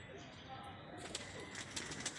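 Soft cooing from covered pigeons at a distance, a few low murmuring calls with faint rustling and wing sounds in the background.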